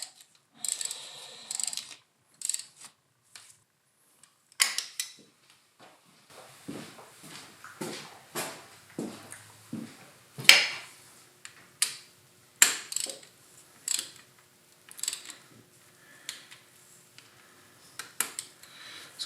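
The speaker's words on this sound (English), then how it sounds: "We've tightened these down to seal the valve cover gasket, so that's done." Valve cover bolts on a Suzuki GSX-R1100 motorcycle being tightened, scattered close metallic clicks, ratchet ticks and tool clinks with pauses between, fairly quiet and with no voices.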